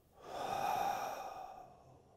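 A single long, slow exhale through the mouth during a Pilates breathing exercise, soft and close, rising then fading away with no talk.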